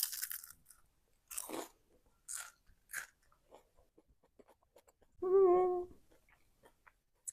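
Crisp bites into golden, pan-fried high-protein sticky rice cakes, a few sharp crunches spaced through the quiet, followed by one loud, close chewing or crunching burst near the end.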